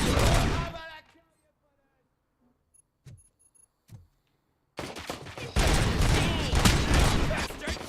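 Bursts of gunfire from the RoboCop: Rogue City video game, a loud volley at the start, a couple of isolated shots in a quiet gap, then dense sustained firing to the end.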